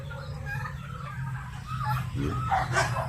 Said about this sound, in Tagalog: Iingay ng aso ngayon. Maraming aso.